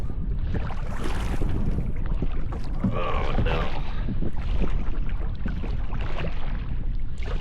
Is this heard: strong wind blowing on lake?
yes